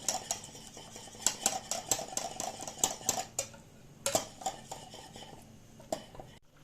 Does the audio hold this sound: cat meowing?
no